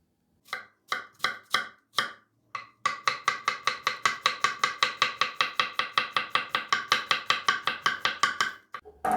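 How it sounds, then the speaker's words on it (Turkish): Steady rhythmic knife chops of a red onion on a cutting board, a few slow strokes and then a fast, even run of crisp taps, close by. "Soğanı ince bir şekilde doğruyorum."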